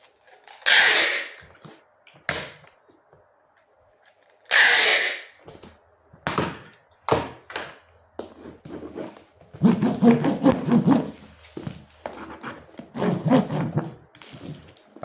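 A sealing machine closes a package holding RAM. Two loud hissing bursts and a series of sharp clicks are followed by a stretch of rattling mechanical whirring, each part close and separated by quiet gaps.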